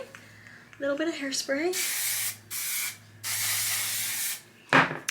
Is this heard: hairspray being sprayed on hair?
yes